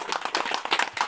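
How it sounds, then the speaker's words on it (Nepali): A group at a New Year 2078 celebration in Khotang gives brief, lively applause, with many hands clapping quickly and close by for about a second. "ताली"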